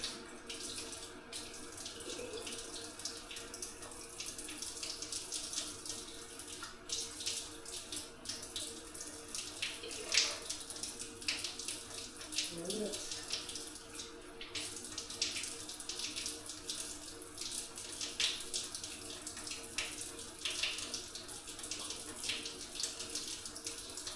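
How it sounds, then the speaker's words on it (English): Water pours steadily from a tap to half fill a container for homemade wine, a close, continuous rush that barely changes over time. "we're going to half fill this with water"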